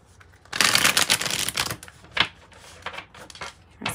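A tarot card deck is shuffled up close: a dense burst of riffling card snaps and flicks, then scattered softer taps and slides as the cards settle, with no voices.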